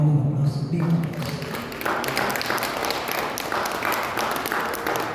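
An audience at a community faith talk claps in scattered, moderately loud applause that builds after a brief voice at the start and continues steadily.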